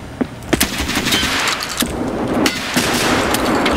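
Rapid gunfire in a horror-style factory video game, repeated sharp shots over a dense, steady wash of noise, loud and close throughout.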